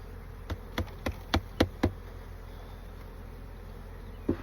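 Honeybees from a full nucleus box being transferred into a hive: a low, steady buzzing runs throughout, broken by several sharp knocks from handling the boxes and frames in quick succession.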